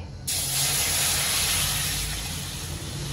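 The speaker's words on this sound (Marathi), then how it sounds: "सेम कढईमध्ये आता मी पाणी घालून घेते" Water poured into a hot kadhai just emptied of roasted semolina, for mango sheera, sets off a loud, steady hiss and sizzle that starts abruptly and carries on throughout, with no voices.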